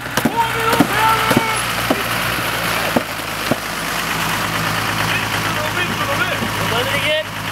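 A car engine idles in a steady low rumble while it is being repaired, close by and continuous, with people talking loudly over it and a few sharp knocks.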